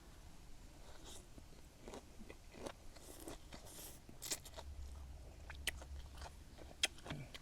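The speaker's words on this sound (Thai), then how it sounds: "ผักกรอบกรอบดีดีกรุบกรับกรุบกรับอยู่" Close, quiet crunching and chewing of crisp fresh vegetables, with sharp bites scattered through a steady munching rhythm and no talking.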